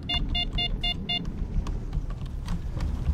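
A car in the game Stalker Lost Alpha gives a rapid run of five electronic warning beeps, followed by rumbling engine and driving noise.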